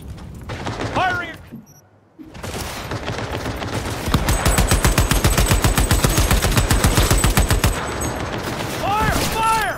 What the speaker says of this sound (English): Shoot! Shoot! Open and fire!